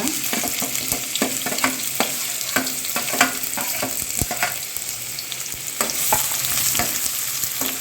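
Finely chopped onion and two or three dried red chillies fry in a pan over low heat, giving a steady close sizzle with repeated stirring scrapes throughout.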